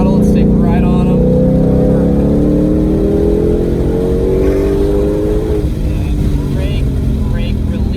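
A 2020 Shelby GT500 accelerating on a race track at Motorsport Ranch Cresson, its engine note loud and steady, rising in pitch through the gears, with a voice talking over it.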